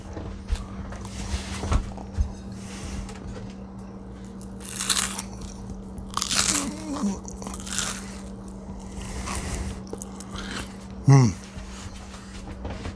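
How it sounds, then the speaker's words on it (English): Repeated crisp crunches of croutons in a salad being bitten and chewed up close, scattered over several seconds, with a brief voice near the end. "I'm going to do a little crouton ASMR for you."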